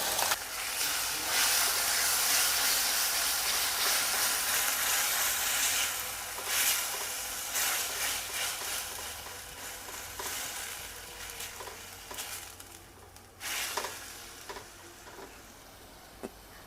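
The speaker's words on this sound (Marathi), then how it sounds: "आता त्याच्यामध्ये आलं लसूण पेस्ट घालते आहे त्याचबरोबर इथे मी दोन टोमॅटोची प्युरी केले ती घालते आहे" Ginger garlic paste and tomato puree sizzle loudly in a hot pan, a dense, continuous hiss broken by scraping stirs that ease off toward the end.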